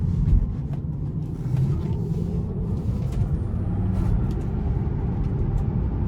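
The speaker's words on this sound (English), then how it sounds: "I'm gonna put my foot down coming out of this corner just so you can see the acceleration." A 2019 Tesla Model 3 Standard Range Plus accelerates hard out of a corner: a steady low cabin rumble of road and tire noise holds throughout, with a faint electric whine and no speech.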